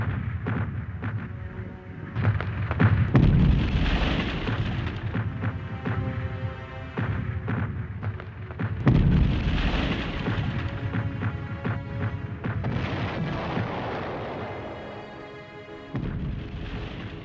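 A World War I artillery barrage at Verdun in 1916 rumbles with heavy shell fire, deep booms and sustained explosive roar swelling in waves, loud and continuous with no voices.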